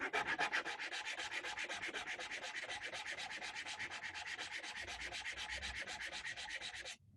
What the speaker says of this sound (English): So you can use a wood file like one of these.